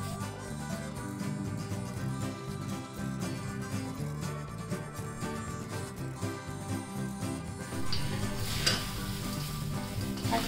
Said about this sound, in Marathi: या कढईमध्ये जरा आहे अजून तेल वगैरे, त्याच्यामध्ये जरा हे पोहे टाकून ना व्यवस्थित पुसून घेऊया